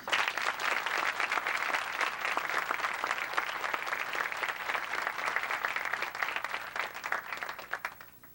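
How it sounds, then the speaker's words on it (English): Sustained applause from a crowd, dense steady clapping that holds for several seconds before thinning out at the end. "Give him a round of applause."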